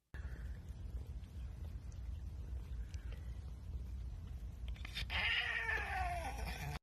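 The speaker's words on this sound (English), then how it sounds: "Cat get brain freeze in ice cream." A cat with brain freeze from ice cream lets out a short, strained yowling meow near the end, rising and falling briefly over a quiet background of low rumble.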